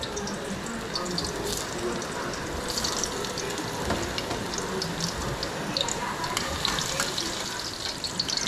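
Ginger sizzling in oil in a hot pan (kawali), a steady crackling fry with soft stirring scrapes, moderately close and continuous throughout.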